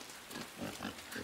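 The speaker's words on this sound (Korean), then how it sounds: "돼지야, 너 왜 그래?" A pig in the video game Inside gives a quick run of three or four close, snuffling grunts with no one talking over it.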